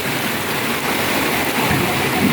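Rushing flood water in a steady, dense roar, loud and close throughout with no break, the broad churning wash of a strong current.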